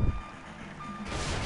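A large truck in GTA 5 Online sounds its reversing alarm, a steady run of evenly spaced electronic beeps over a low engine rumble, loud and near, with no talking.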